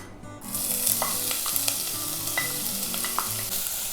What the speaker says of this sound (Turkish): Şöyle zeytinyağını koydum. Çok çok ince doğradım. Beyaz soğanları ekliyorum hemen.